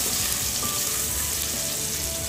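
Garlic and ginger fry in a hot pan for pork belly adobo, giving a steady, close, dense sizzle that holds without pause.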